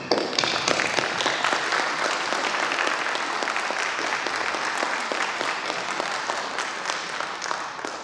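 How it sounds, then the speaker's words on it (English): Conference audience applauding the organizers of cultural nights, a dense, even roar of many hands clapping that holds steady for several seconds, fairly loud with no speech over it. "They deserve a round of applause"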